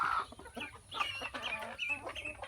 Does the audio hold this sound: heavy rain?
no